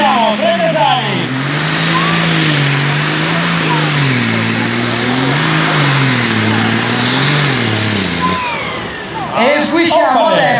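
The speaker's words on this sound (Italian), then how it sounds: "lo mandiamo su dei giri piano piano" A tractor-pulling engine revs loud and close, its pitch climbing and dipping in long sustained sweeps, with crowd and commentary voices running underneath at a tractor pulling event in Trecasali, 2015.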